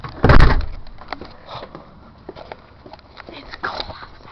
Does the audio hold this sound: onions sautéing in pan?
no